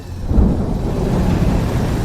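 Steady rain roars with low rumbling thunder beneath it, a dense continuous wash of storm noise with no voices.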